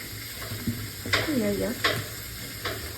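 Tuna fish frying in a pan, a steady soft sizzle with a few louder stirring scrapes and clinks, and a voice talking faintly in the background.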